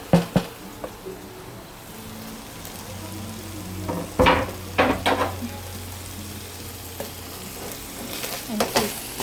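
Onions and tomatoes sautéing in a pan over medium heat, a low steady sizzle broken by several sharp clinks and scrapes of stirring utensils against the pan, with no talking.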